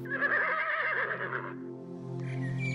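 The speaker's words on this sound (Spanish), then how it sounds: "los bisontes y los caballos salvajes de Sewalski, han sido introducidas en este paraje" A wild Przewalski's horse neighs close by, a long wavering whinny lasting about a second and a half, followed by low steady background hum and faint higher tones.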